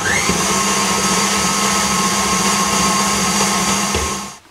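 An electric mixer beats butter with sifted icing sugar for Moroccan cornstarch Eid cookies, giving a steady, loud motorised whir that runs unbroken through the whole stretch and cuts off at the very end.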